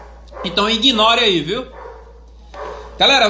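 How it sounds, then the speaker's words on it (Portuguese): Dogs barking at a person arriving for a delivery, a few sharp barks and yips in bursts under someone speaking Portuguese close to the microphone. "Agora vocês vão escutar os nossos cachorros latindo aqui"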